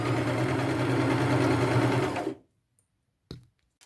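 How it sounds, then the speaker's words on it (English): A sewing machine runs a zigzag stitch down the edge of fabric for a purse, a steady close whirring hum that stops abruptly, followed by a brief click. "Now I'm going to zigzag stitch it all the way down."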